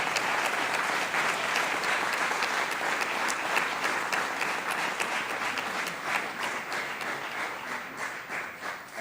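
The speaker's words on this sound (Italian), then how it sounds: "questo è un applauso ovviamente per il presidente della federazione" Sustained applause from the audience at a national choral competition's closing event, honouring the choral federation president; a thick, loud, continuous clapping that holds for several seconds before slightly thinning toward the end.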